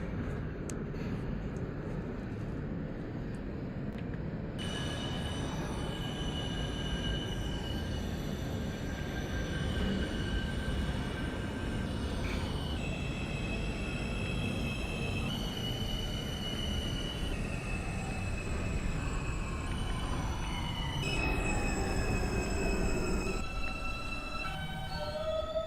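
An R160B subway train in OpenBVE hums along steadily with a continuous low rumble, layered by tonal motor whines that rise and fall in pitch, some squealing near the end.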